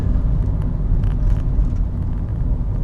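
A car slows under braking and then rolls over a speed bump, heard from inside as a loud, low, rumbling engine and road drone with a few soft knocks mid-way.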